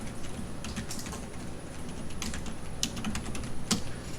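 Keystrokes on a computer keyboard while commands are entered into 2D drafting software for an injection mould drawing: scattered, uneven clicks with a few sharper key presses, close up over a steady low hum, no talking.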